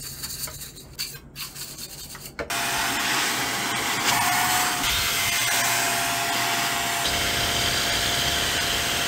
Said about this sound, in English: we're just gonna vacuum that a little bit